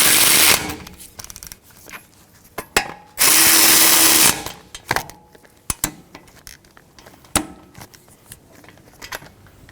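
Power tool tightening caliper bracket bolts on a 2013-2017 Honda Accord, two loud close bursts of whirring, the second about a second long, between sharp metallic clicks and clinks from tools being handled.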